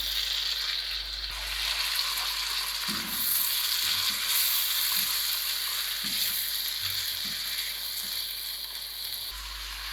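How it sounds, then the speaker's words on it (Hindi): Chicken pieces sizzle in hot masala for a gobi chicken dish, a continuous loud frying hiss with intermittent scraping and stirring knocks from a spoon in the pan, no voices. "अच्छा जी, अब हम इसमें चिकन डाल देंगे।"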